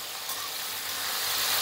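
Okra (bhindi) fries in hot oil for a masala fry, giving off a steady, close sizzle. The bright hiss holds evenly and swells slightly toward the end.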